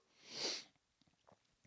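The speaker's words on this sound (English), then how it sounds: "Sorry, I'm going to sneeze." A single sharp sneeze bursts out close to the microphone, followed by a few faint breathy sounds and small noises.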